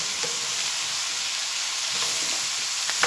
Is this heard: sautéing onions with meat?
yes